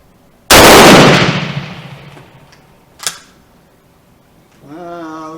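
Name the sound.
gunshot from a Romanian M44 rifle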